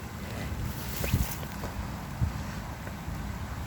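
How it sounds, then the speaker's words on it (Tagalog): Steady wind roars and buffets the microphone, with low rumbling gusts swelling and easing throughout and a sharp thump at the very end. "Ang lakas ng hangin"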